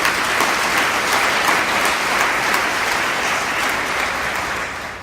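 A church congregation applauds at a worship service, dense steady clapping held for about five seconds before tapering slightly at the end, with no speech over it.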